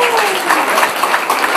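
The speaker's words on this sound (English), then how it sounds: "Huge round of applause for these two guys." Outdoor crowd applause at a chilli eating contest in Burnham-on-Sea, a short burst of clapping mixed with some talking, moderately loud and close.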